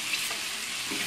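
Food stirred and mixed in a frying pan, a brief steady hiss of sizzling with faint scraping, close and even, no voices.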